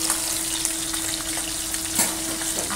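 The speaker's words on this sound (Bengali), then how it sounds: "মাছ ভাজা বসিয়েছি" Fish fries in hot oil with a constant close sizzle and scattered crackles, along with a steady low hum and no talking.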